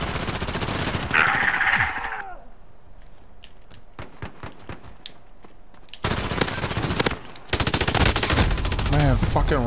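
Rapid automatic gunfire in Call of Duty: Modern Warfare, loud bursts of shots separated by quieter gaps with scattered single reports, and a player's voice talking briefly.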